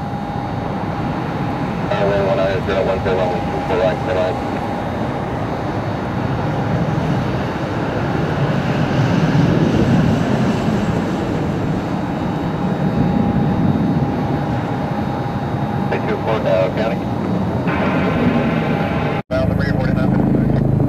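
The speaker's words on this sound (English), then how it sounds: "E175 taking off on runway 24 right." Embraer E175 jet taking off from runway 24 right at Cleveland Hopkins Airport, a steady broad engine roar that holds loud throughout, with a sustained tone and a brief cutout near the end.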